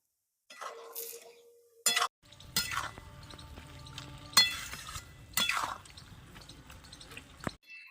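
Jujubes being stirred into a homemade village-style pickle mixture, producing scattered clinks and scrapes of utensil against a pot with wet shuffling, irregular and close.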